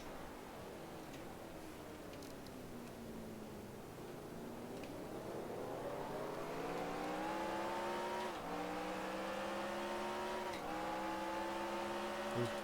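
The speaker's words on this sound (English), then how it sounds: "I hit the rev chip that time" A race car engine in a 1998 NASCAR Save Mart/Kragen 350 racing video game whines continuously, dipping then climbing in pitch through gear changes, with brief stutters where it bangs against the rev limiter, all without talk.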